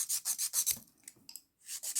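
A hand file rasping across acrylic nails in quick short strokes, a dry scratchy rubbing in bursts with a brief pause, close and fairly quiet.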